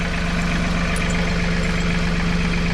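A tractor engine idles in snow, with a loud, steady low throb and a fine rapid pulse that hold unchanged throughout, close by, with no talking.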